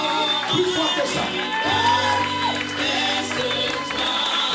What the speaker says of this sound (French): On acclame très fort, plus fort que ça.